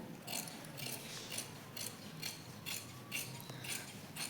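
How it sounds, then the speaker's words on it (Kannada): Tailoring scissors cutting through cloth for a blouse: a steady series of about eight soft, crisp snips, evenly paced, close and fairly quiet, with no speech. "ಸೊ ಇವಾಗ ಇದನ್ನು ಕಟ್ ಮಾಡ್ಕೊಳ್ಳೋಣ."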